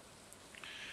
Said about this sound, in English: because it's raining, I may actually try to fish